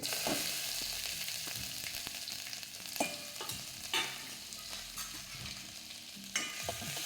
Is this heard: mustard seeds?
yes